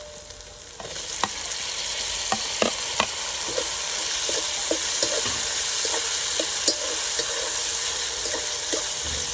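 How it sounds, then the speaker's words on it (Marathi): Tomatoes sizzle and sauté in a pan with ginger-garlic paste for dhaba-style rajma, a continuous close frying hiss broken by scattered crackles and stirring taps, with no talking. "टमाटो पण आपले चांगले परतून झालेले आहेत"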